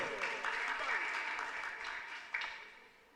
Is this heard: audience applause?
yes